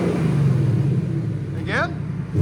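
A 2021 Ford Mustang GT with a 5.0L V8 on its stock exhaust holds a steady, deep engine rumble throughout, with a brief rising chirp near the end.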